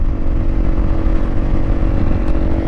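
A Honda CRF 250 Rally motorcycle cruises along with a steady, loud engine drone that rises and falls slightly, heard close up from the rider's position without any voices.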